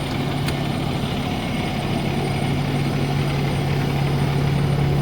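A Pierce Arrow XT fire truck engine idles at a constant, low rumbling drone, close and steady throughout with no voices.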